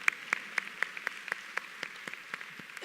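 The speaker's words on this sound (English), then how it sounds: "You can clap that up." A few people at a graduation commencement ceremony clap in a steady, moderately paced rhythm, separate sharp claps continuing for a few seconds without talk.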